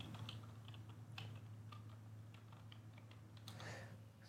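Computer keyboard typing in irregular quick bursts of clicks, close and moderately loud over a steady low hum.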